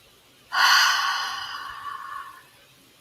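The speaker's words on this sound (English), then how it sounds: "let's breathe that in" One long, deep inhalation drawn in through the nose and mouth, a breathy airy rush that starts abruptly, swells, then slowly tapers off, close and alone with no speech over it.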